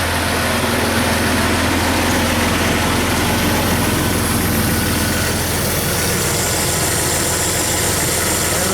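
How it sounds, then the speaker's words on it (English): A 1999-2004 Jeep Grand Cherokee 4.0L engine idles with the AC on and the electric radiator fan running, a loud, steady low rumble with constant whooshing fan noise, close by and unbroken. "fire up the engine, turn the AC on"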